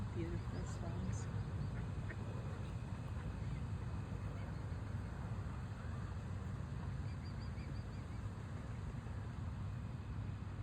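Ducks quacking at a swan lake on a neighborhood nature walk, faint and intermittent over steady broadband outdoor noise, with a few brief calls near the start.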